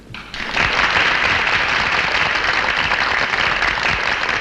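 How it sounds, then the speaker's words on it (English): Theatre audience applause in a 1964 UK horror film, swelling in after a brief quiet start into a full, sustained roar of clapping that holds steady to the end, no voices over it. "Listen to the audience applaud."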